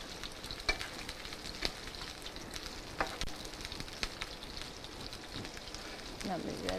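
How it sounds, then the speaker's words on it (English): Burger ingredients sauté in a pan while being stirred, a soft continuous sizzle broken by several light utensil clicks and scrapes, fairly quiet and close, with a louder crackle at the very end. "I'm just going to give them a little stir."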